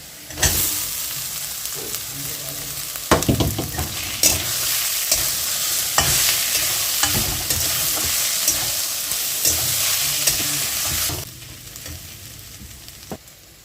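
Soyabean and capsicum sizzle in a pan for momos, with a dense crackle and repeated spatula scrapes and taps as the mixture is stirred, close up, before the frying noise drops away near the end.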